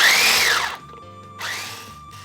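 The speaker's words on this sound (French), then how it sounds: "je vais continuer à mélanger avec le batteur électrique." An electric hand mixer whirs through cold dough in two bursts, its pitch sliding as the beaters work, with a brief pause between runs and no talking.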